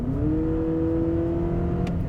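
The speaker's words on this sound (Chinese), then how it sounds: "Honda 的这种NA 引擎啊，特别是 Atkinson Cycle 引擎，当它在撕裂，" A Honda CR-V 2.0L e:HEV with an Atkinson-cycle petrol engine revs at high rpm, giving a steady, sustained droning tone that holds level and fairly loud for about two seconds.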